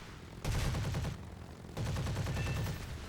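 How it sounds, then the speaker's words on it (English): Two bursts of rapid, heavy 30mm automatic cannon fire from a BF 109 G-6 in the video game War Thunder, each under a second, loud and close with a low thudding rumble between volleys. "Machine guns exhausted, we bring in the cannon"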